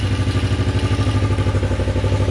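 A bobber motorcycle engine idles steadily with a low, even, rhythmic chug and some mechanical clatter, close and loud throughout.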